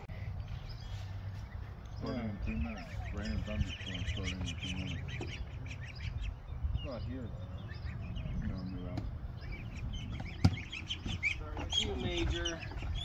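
Young backyard ducks in a pond quack and chatter throughout, fairly close, over a steady outdoor background.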